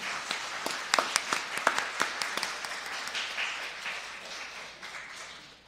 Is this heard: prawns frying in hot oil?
no